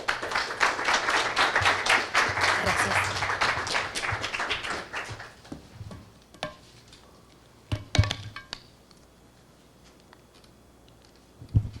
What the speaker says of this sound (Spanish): Ahora sí, un aplauso para Mario, bienvenido.